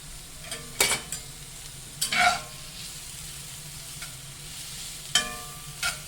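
Thin onion slices frying in a pan just under medium heat give a steady, low sizzle, broken by several sharp scrapes and clacks of a utensil stirring nearby.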